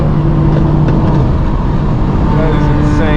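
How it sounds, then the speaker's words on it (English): Loud straight-piped car exhausts, including a BMW M4 G82, rumble and rev continuously, close by, with a deep throaty drone filling the whole stretch. "These two are literally having an exhaust battle right now."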